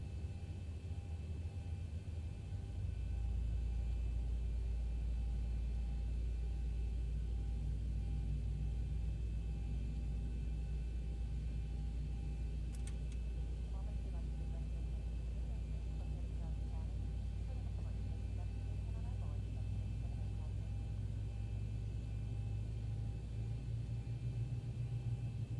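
Boeing 737 engines spooling up in the Zibo mod flight simulator, a deep steady rumble that rises after a few seconds and then holds as a constant loud drone.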